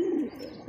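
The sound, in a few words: Iranian Barhama pigeon cooing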